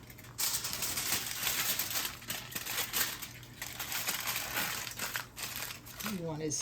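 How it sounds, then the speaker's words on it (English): Aluminium foil crinkling and crumpling while barbecue ribs are wrapped and sealed, a steady close rustle lasting throughout with light crackles and a voice speaking near the end. "Let me put this in some foil paper."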